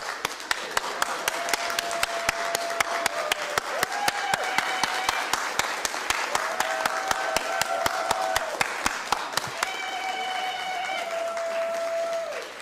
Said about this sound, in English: let's all just clap for that minute.